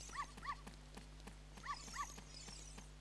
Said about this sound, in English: So this dog is supposed to be Little Richard.